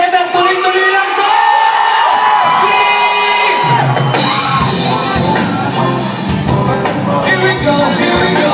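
A theater crowd at a live comedy show in the Fox Theatre, Redwood City, bursts into loud whoops, cheers and yelling. It starts alongside a held musical tone, then swells into a dense, close roar that lasts to the end.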